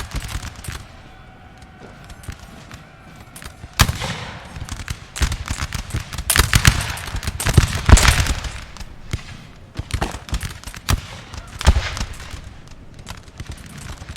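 Musket volleys and scattered gunfire from a historical 1805 battle in the Napoleon: Total War video game, a loud, dense crackle of overlapping shots that swells and recedes in bursts across the whole stretch, with no talking.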